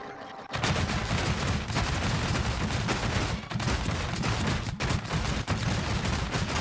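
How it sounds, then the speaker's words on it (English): An auto turret fitted with two spud guns in Scrap Mechanic fires nonstop against a swarm of bots, a dense, loud stream of rapid shots after a brief quiet start. "It's just two spud guns trying to take on 30 tote bots."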